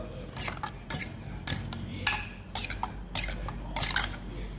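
A metal spoon scoops Thai tilapia chili dip (nam prik pla nil) into a bowl, making a series of bright clinks and scrapes in an irregular rhythm, close and fairly loud.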